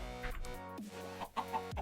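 A red chicken in the Minecraft Sky Factory 3 modpack clucks repeatedly, a run of short clear clucks and squawks from the game's fowl, with no voice over them.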